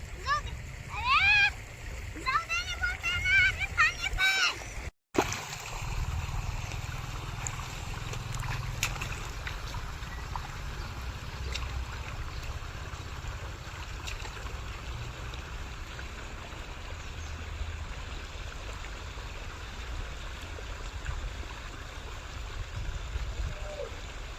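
Water flows fast onto a rubbish heap outdoors, a continuous rushing, splashing stream heard close throughout, with a person talking over it at the start.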